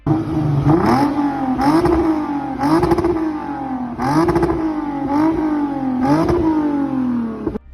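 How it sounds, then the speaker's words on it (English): A 3.5 litre car engine revving hard in repeated bursts, each rise in pitch dropping back, with a throaty exhaust note and rattling between revs, close and loud. "I don't know if these motors sound any good with the exhaust"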